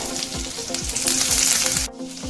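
Bay leaf and ginger frying in about a spoonful and a half of hot oil for a dhaba-style whole masoor lentil dish, giving a loud, steady crackling sizzle with soft low knocks, then the hiss briefly thins near the end.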